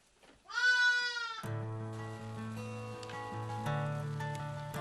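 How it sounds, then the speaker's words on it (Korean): Sheep and goats from a herd on a frozen Siberian winter ranch bleat in quick succession, a sharp close cry first, then a layered chorus of overlapping bleats from the moving flock. "양과 염소떼가 방향을 맞춰 어디론가 이동합니다"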